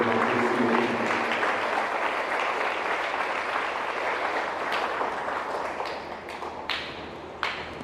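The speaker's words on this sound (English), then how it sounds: "give me a good clap to the teachers" Students give their teachers a long burst of applause at St. John's, Alagapuram, Salem. Dense, full clapping starts strong and slowly thins, and a few distinct single claps stand out near the end.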